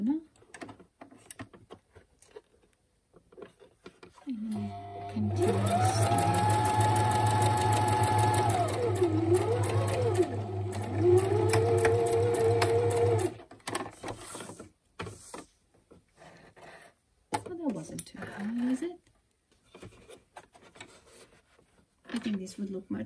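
A sewing machine stitches a drawstring bag in a steady mechanical run of about eight seconds, with speech before and after the stitching.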